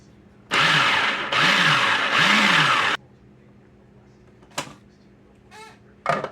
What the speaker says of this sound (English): what I'm going to do is pulse this around for a second just to mix the salt